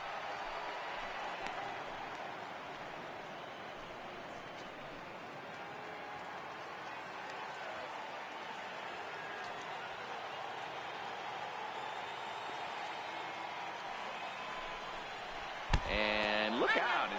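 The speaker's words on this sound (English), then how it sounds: "I can hear the crowd murmuring now" A baseball crowd in MLB The Show 18, Yankees versus Red Sox, murmurs steadily throughout as a constant stadium hum, with a short sharp burst of sound near the end.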